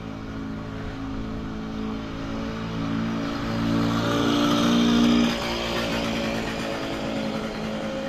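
A small, low-powered motorcycle engine hums and rises as it passes at a moderate distance, swelling briefly before dropping back to a steady background drone.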